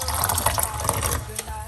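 Hot water poured into a turmeric, rosemary and ginger juice mixture, a faint close splashing and trickling stream with a few small drips, quiet throughout.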